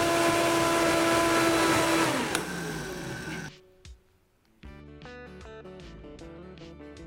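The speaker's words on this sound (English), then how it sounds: "we're gonna pop that in the blender and blend it up" A blender whirs loudly at full speed through a vanilla and nutmeg mixture for a cupcake recipe, then winds down and stops, leaving quieter clinks and background sounds.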